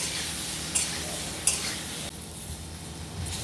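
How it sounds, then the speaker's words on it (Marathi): Green chillies roasting in oil with salt in a pan for a Maharashtrian chilli-garlic thecha, a steady close sizzle with a couple of brief stirring scrapes. "परतून घ्यायचा आहे तेलावर आणि छान भाजून घ्यायचं आहे"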